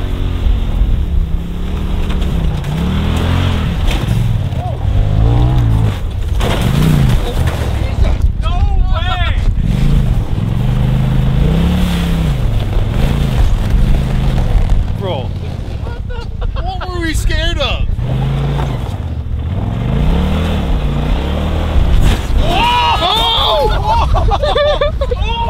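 A shifter kart engine revs and whines as it drives fast in the desert, rising and falling in pitch while excited voices talk and shout over it throughout.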